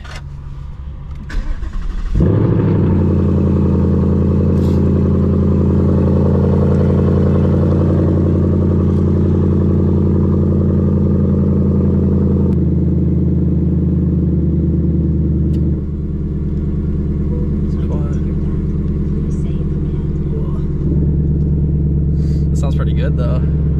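A 2020 Ford Mustang GT engine idles with a deep, steady rumble after starting up, holding a constant low drone with slight shifts in pitch, close to the microphone.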